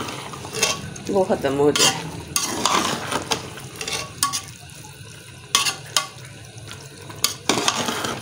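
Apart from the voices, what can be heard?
stirring keema biryani mixture in a pot on high heat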